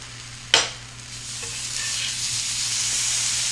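Birria tacos fry on a griddle with a steady, building sizzle after a sharp clatter near the start, close by and without speech.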